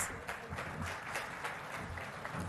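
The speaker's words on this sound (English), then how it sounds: "onto the stage to set the context with a warm round of applause" At a government presentation by a Chief Minister, a crowd applauds steadily, a dense patter of clapping that holds for a couple of seconds without any pause.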